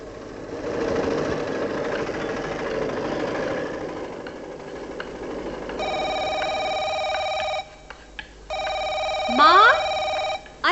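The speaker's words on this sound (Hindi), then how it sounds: "किसका फोन है? लंबी कॉल है, शायद बाहर से फोन है।" Telephone ringing in a household scene from a Hindi TV serial, two long steady electronic rings separated by a short gap, following a stretch of engine-like machine rumble and talk.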